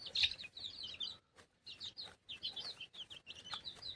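Desi village hens on a poultry farm, a run of short, repeated clucks and chirpy calls in uneven bursts with brief pauses, fairly faint and somewhat distant.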